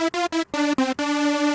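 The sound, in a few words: Serum synth with unison at 16 on both oscillators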